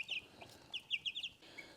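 Frizzle chickens with ruffled feathers clucking nearby in a quick run of short, bright clucks, moderately loud over a quiet background.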